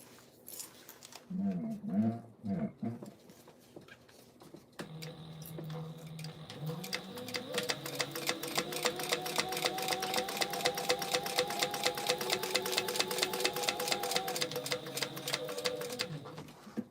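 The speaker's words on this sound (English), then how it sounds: "we're going to top stitch." Sewing machine top stitching on craft-fair items, a steady rapid mechanical rattle running continuously after a few seconds of quieter handling and brief talk at the start.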